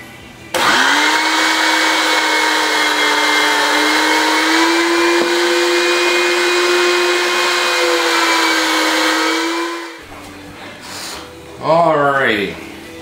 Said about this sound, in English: That way I can put it in our processor